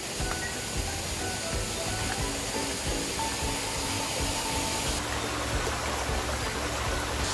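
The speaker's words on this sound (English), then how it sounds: "There's a beautiful waterfall here, Rainbow Friends, and a lovely little rock pool down the bottom." A waterfall splashes into a rock pool with a dense, steady rush of falling water. The noise is loud and continuous with no pauses.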